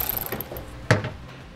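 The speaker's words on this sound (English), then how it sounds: "We're going to use an 8mm socket to get those removed." A single short ratcheting burst from an 8mm socket wrench loosening a small nut off a heat shield stud under a 2017 Mercedes-Benz GLC, heard close and alone after quiet rustling.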